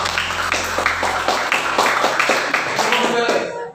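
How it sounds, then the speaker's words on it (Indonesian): A school class claps for group 1 after the group shows its work: a quick run of distinct, fairly rhythmic hand claps from a group of students, close and lively, stopping abruptly at the end. "Tepuk tangan untuk kelompok 1."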